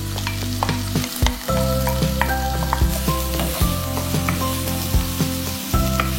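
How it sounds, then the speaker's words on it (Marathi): Finely chopped onions fry in hot oil with a steady, close sizzle, while a spatula periodically scrapes and stirs through the pan. "कांदा एकदम छान अगदी मस्त भाजला गेलाय."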